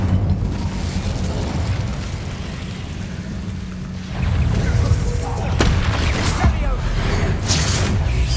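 Incendio fire spell cast in the Hogwarts Legacy video game, a loud booming whoosh of flame with crackling bursts layered over a rumbling game soundscape.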